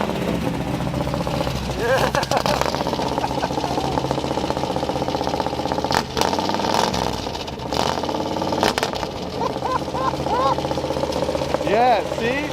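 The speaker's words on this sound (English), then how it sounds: "Give it a couple of jams with the throttle there." A Dodge W250 with a carbureted 318 V8 running close by and loud, with a few throttle blips raising the revs while people talk over it.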